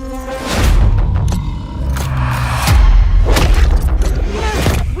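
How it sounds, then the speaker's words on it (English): Booming explosions in a video game trailer, several loud thuds and low rumbles with heavy bursts and sharp transients close together. "We sure cause a lot of explosions."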